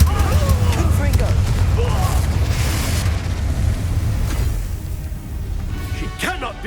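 Confringo spell explosions from Hogwarts Legacy boom in a loud, roaring rush, with crackling bursts and spell effects layered over a steady low rumble while characters call out in the background.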